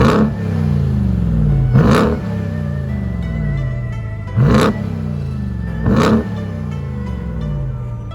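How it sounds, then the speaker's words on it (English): A car engine with its factory exhaust revs outside, a steady idle broken by three sharp, loud blips of the throttle at roughly even intervals. "So that's what it sounds like with the factory exhaust."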